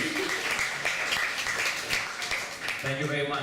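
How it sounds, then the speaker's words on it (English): Audience applause following a spoken poetry performance, a brief burst of clapping mixed with voices, with a speaker's talk emerging clearly at the end. "I think that deserves another round of applause."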